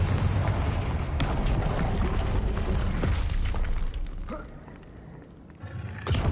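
Bombarda and Confringo spell blasts in the game Hogwarts Legacy: a dense rumbling barrage of explosions and crashes, with sharp bursts rising out of a loud steady roar that eases off before a final hit.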